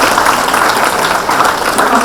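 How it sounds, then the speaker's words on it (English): A science forum audience at a college claps together in a dense, steady burst of applause, loud and close, with no pauses. "Big round of applause to yourself."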